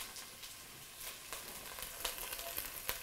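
Garlic sizzling in a pan of oil as the start of an Italian wedding soup base, a faint, steady crackle with scattered sharp pops and light stirring.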